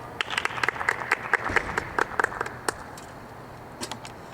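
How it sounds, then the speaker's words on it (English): Sparse, irregular clapping from a small audience at the close of a staged talk show, with a quick burst of claps that thins out and stops, then a few stray claps near the end. "Can we get a round of applause for him?"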